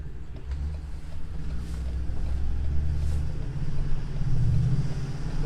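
A 7.3-liter V8 gas engine in a 2021 Thor Four Winds 28Z Class C motorhome drones steadily from inside the moving vehicle, a low, even rumble with road noise and no talking.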